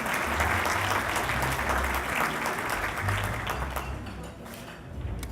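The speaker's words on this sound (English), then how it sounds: "A round of applause for them," A crowd at a fire department awards ceremony applauds the spouses and the firefighter women's auxiliary, a loud and dense stretch of clapping that tapers slightly toward the end.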